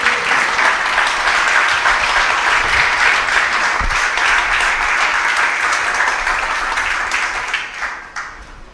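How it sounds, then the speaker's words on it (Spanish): Church congregation giving a loud, sustained round of applause after a Spanish-language prayer, dense continuous clapping that holds steady for several seconds and then tapers off near the end. "Y el pueblo de Dios dice amén con un fuerte aplauso."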